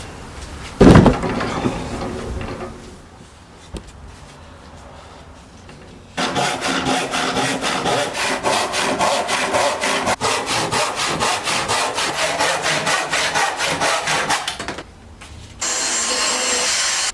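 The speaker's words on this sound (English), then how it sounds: "I've sawn it off, given it just a touch up to take off the rough edges." A hand saw cuts through vinyl flooring being made into a countertop, with quiet handling at first, then a long run of fast, loud, rhythmic back-and-forth sawing strokes that stop before a short final burst.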